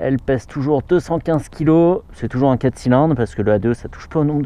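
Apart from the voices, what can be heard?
No everyday noises stand out.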